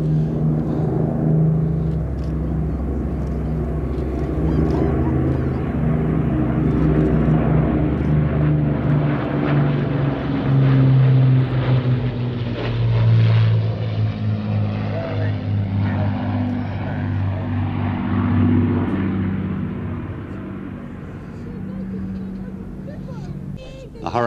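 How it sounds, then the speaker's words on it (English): The Merlin engines of a Lancaster bomber drone overhead at an air festival, a loud, rumbling propeller roar that swells and fades over about twenty seconds, with a voice talking over it. "Listen to the sound of those beautiful Merlin engines."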